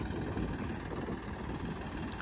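A new Massey Ferguson 9500 tractor on a Punjab farm, fitted with a 20-disc harrow, runs with a steady, dense low engine rumble that holds close and loud throughout.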